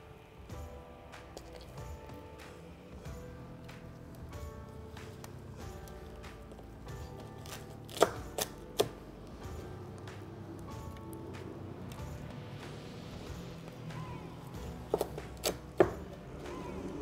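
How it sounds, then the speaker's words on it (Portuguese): A knife cuts through crispy roasted pork prime rib with a run of sharp cracks and crunchy chopping taps, some louder thuds among them, close up and quiet overall with no talk. "Vamos fatiar ele aqui."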